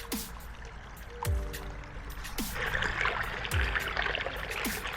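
Water trickles and pours steadily from a half-closed tap into a pond skimmer at close range, with occasional gurgling drops and bubbling splashes over a constant flow.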